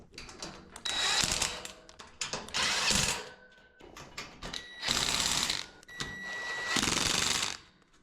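A power drill tightens M8 by 40 bolts on a twin-over-twin bunk bed frame with stairs and storage. It gives four close, loud whirring bursts of a few seconds each, with short quiet gaps between them and no talk.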